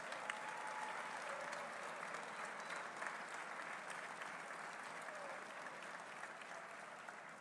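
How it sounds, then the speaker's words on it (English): Sustained applause from a seated audience honoring WVU university leadership and the Board of Governors at a football coach's introduction event, a dense, even clapping that holds steady from start to finish. "Please stand up and let us give you a round of applause."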